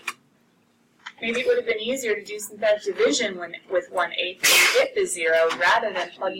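A single sharp sneeze bursts out in a classroom midway through a teacher's continuous talking, loud and close, lasting under half a second.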